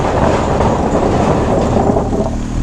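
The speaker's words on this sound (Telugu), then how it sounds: "ట్రైన్ వెళ్తున్న సౌండ్ వస్తుంది" A BMW GSA motorcycle crosses a wooden bridge over a river in Spiti Valley, making a loud, continuous rumbling clatter much like a passing train.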